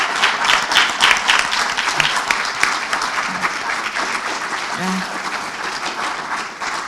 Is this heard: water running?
no